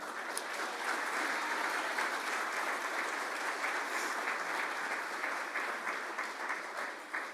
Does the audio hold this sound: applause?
yes